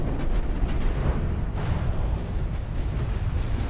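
Heavy guns on a Dreadnought warship in the From the Depths battle game firing in a dense, continuous barrage of low booms and rumbling blasts, loud and close with no voices.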